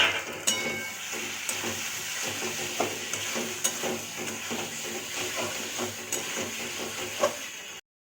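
Potato and brinjal pieces fry in a pan after a cumin and coriander paste goes in, giving a continuous soft sizzle broken by frequent scraping and stirring clatter close by.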